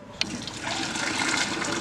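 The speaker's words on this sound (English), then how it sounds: "Now I'm just holding the tea bags back as well as I can, and I'm pouring it in." Hot sweet tea pouring into a container while tea bags are held back, a steady liquid splash that starts with a sharp click and continues as an even, close pouring stream.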